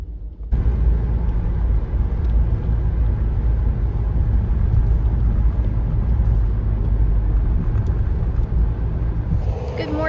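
Road traffic in sleet and light snow, heard from inside a moving vehicle as a constant, heavy low rumble with road noise that stays steady and loud for the whole stretch.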